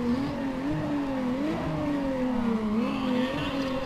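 A race car engine in the video game Need for Speed ProStreet holds a steady, loud whine that rises and dips as the car shifts and accelerates, droning continuously without pause.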